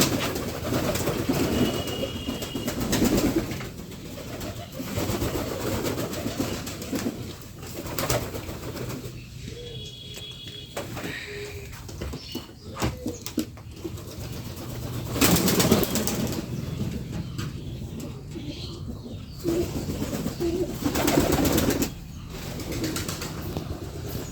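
Pigeons resting at midday, their soft cooing repeated close by, with bursts of wing flapping and shuffling between calls.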